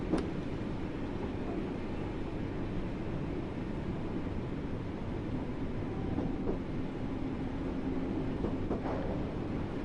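An Island Line electric train in Train Sim World 2 rumbles steadily along the Isle of Wight track, a continuous low droning roll with faint clicks and no voices.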